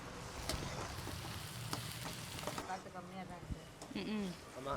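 Fennel seeds sizzle and crackle in hot oil with a bright, steady hiss, and a voice talks over the frying toward the end.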